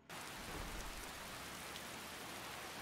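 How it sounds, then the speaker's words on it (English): Steady rainfall in the video game Skyrim, an even, hissing downpour that starts abruptly and continues without a break, fairly close and consistent, with no voices over it. "Oh, it's raining?"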